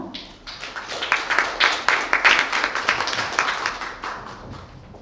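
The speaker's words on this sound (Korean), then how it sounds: "여러분, 윤진희님 큰 박수로 맞이해 주시기 바랍니다" An audience at a youth policy talk event applauds to welcome a speaker, crisp individual claps forming a lively, uneven burst that swells and then tapers away over about five seconds.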